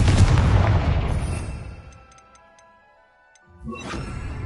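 A Confringo blasting spell in Hogwarts Legacy bursts loudly at the start, its boom decaying over a couple of seconds into near silence with faint ticking, before another burst of noise rises.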